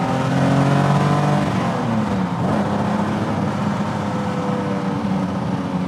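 A TVR T350C sports car engine revs hard and accelerates, its loud, steady harmonic drone rising and shifting in pitch close by, with no talk over it.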